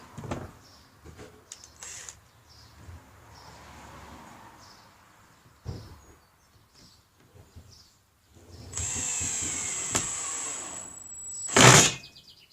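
A power drill drives screws into wooden batten posts for a small fence, with quiet handling noises early on, then a sustained whirring motor run and a short, loud final burst as a screw seats.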